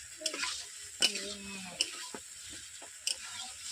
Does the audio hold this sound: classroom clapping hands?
no